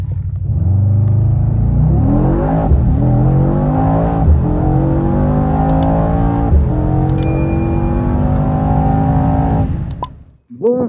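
A Mercedes E-Class AMG 63 S in sport plus mode accelerates hard at night, its engine climbing loudly through several rising gear pulls with brief shift breaks, close and dominant before cutting off at the end.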